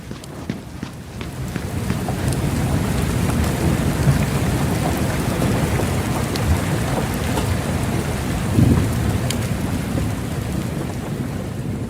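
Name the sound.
heavy rain and thunderstorm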